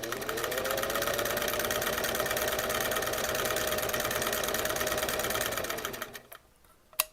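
A vintage Singer 327K sewing machine runs a straight stitch in a steady, close, fast-whirring rattle for around six seconds, then halts with a brief click near the end; no voices.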